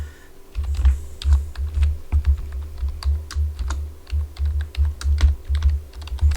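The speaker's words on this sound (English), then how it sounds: "So let me type it out for you." Steady, fast typing on a computer keyboard, close and fairly loud, with continuous clicking keystrokes and no talking.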